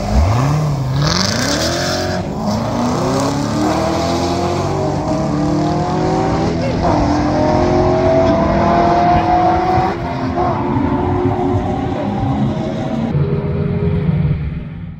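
Two supercharged Corvette Z06s, a C5 and a C7, launch in a drag race, engines roaring hard and climbing through the gears in rising sweeps, loud and close throughout the run with a brief tire squeal at the start.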